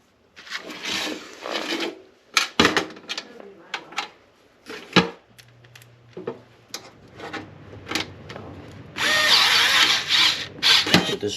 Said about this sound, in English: With this drill.